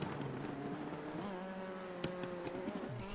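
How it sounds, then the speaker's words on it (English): A Dallara P217 prototype race car drones past at Suzuka, its engine note shifting with sharp exhaust pops and bangs punctuating the tone, heard at moderate distance and fairly faint. "You can hear the pops and bangs from this lovely, lovely Dallara P217"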